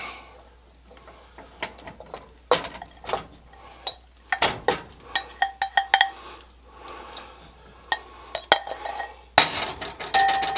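Cooked macaroni stirred into sauce in a pot for a pizza topping, giving scattered close clinks and scrapes of a utensil against the pot in an irregular rhythm, with no talk.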